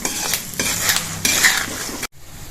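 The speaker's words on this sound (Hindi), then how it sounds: "इसको भून लेते हैं।" A spoon scrapes and stirs poha as it roasts in a hot kadhai, giving repeated close metallic clinks and gritty rustling in steady strokes, with a faint sizzle beneath, ending in a brief pause.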